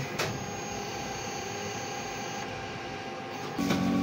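A sublimation printer runs a head clean cycle, giving a steady mechanical hum with a faint whine, and a brief louder shift near the end.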